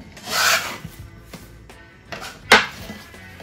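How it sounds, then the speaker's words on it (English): Metal scraper sliding under very wet 100% hydration sourdough on a work surface, producing close scraping rubs and a sharper scrape as the dough is lifted and flipped. "with the help of a scraper, I'm gonna go under the dough and I'm gonna flip it"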